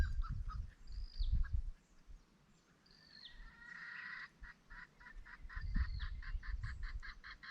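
Several short honking calls from a fowl ring out in bursts, with one stretch of rapid repeated cackles, over low rumbling background noise.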